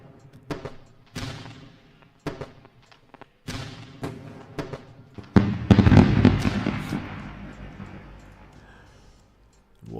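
A fireworks sound effect plays to celebrate a trade, a string of sharp cracks and bangs at uneven intervals, then a dense burst of crackling explosions that fades away.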